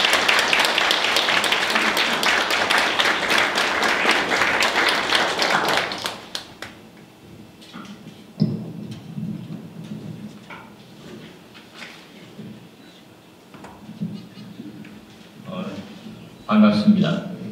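A lecture audience claps loudly together to welcome the chairman to the stage, a dense burst of applause lasting about six seconds before cutting off, followed by quieter shuffling and a voice speaking.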